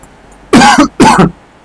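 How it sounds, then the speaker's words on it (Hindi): Two harsh, loud coughs in quick succession, close up, with nothing else around them. "खांसी हो रही है मुझे"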